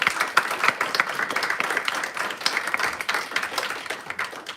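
Audience at a council meeting clapping, a dense burst of applause from a modest crowd that carries on steadily with scattered sharper claps, no talk over it.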